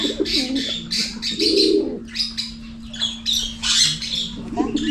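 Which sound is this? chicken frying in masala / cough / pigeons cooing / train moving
pigeons cooing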